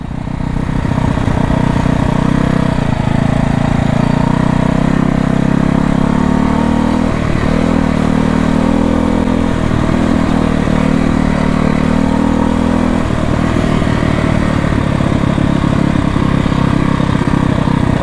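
A 1968 Harley-Davidson motorcycle engine, running for the first time in over 30 years, revs loud and close around 3,000 RPM, a continuous throaty roar that steps down briefly near the end, with no talk.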